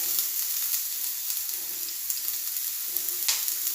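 Onions, ginger and garlic sautéing in coconut oil give a steady close sizzle with small crackles and brief stirring sounds, no talking.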